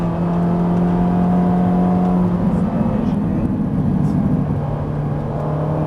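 Ferrari 458 Italia V8 on the Haute Saintonge circuit, engine droning steadily and loudly from onboard, pitch shifting as it pulls through the gears, with wind and road noise throughout.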